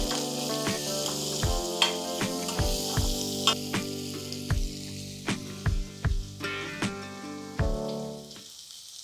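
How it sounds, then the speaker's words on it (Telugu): Onion pieces tossed into a hot pan for a mixed vegetable curry, sizzling steadily while a series of sharp clinks and taps of a utensil ring out in an irregular rhythm, close and clear. "ఉల్లిపాయ ముక్కలు వేసేస్తాం."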